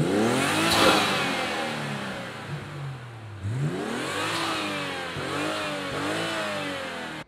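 A modified BMW 540i engine with an aftermarket intake air filter revs hard several times, the pitch climbing and dropping between blips, loud and close with a throaty intake roar.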